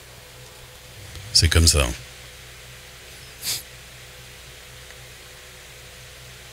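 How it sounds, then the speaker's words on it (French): Constant soft hiss of a fan running behind a microphone, with the noise gate switched off, steady through the whole stretch while someone speaks a few words and breathes close to the mic. "t'entends le bruit blanc parce qu'il y a mon ventilateur derrière"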